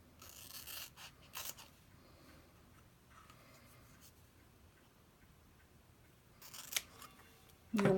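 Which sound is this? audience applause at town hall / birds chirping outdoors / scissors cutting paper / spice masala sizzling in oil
scissors cutting paper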